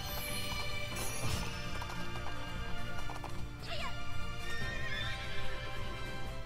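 In the Princess Peach Showtime video game, a horse whinnies sharply over rapid, rhythmic clip-clop hoofbeats of galloping, set against busy game music and sound effects.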